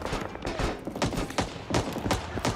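Dense, continuous gunfire in the Vietnam War video game Rising Storm 2: Vietnam, a rapid overlapping barrage of shots and bursts filling the whole moment with no pauses.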